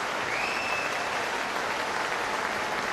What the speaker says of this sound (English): Well, he gets applause from the Salford Red Devils faithful